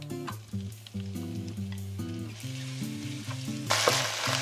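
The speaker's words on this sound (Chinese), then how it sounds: "肉先下锅，" Meat sizzles in hot oil in a wok, a steady crackling fry under rhythmic tonal clatter, rising into a louder hiss near the end.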